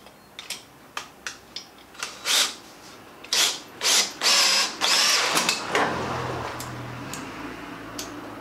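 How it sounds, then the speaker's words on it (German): A power tool drives a screw tight into a part of an electric tricycle project: a string of short ratcheting bursts building to longer whirring runs, close and loud, then a lower sustained rumble. "jetzt schraube ich das Ding einfach fest"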